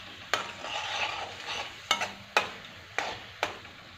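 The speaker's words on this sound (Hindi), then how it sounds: "तो टमाटर को अच्छे से पका लेना है" Masala and tomatoes frying in a pan, a soft close sizzle broken by five sharp spoon knocks and scrapes spaced about half a second to a second apart, no speech.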